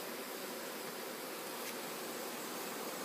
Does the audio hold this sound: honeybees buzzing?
yes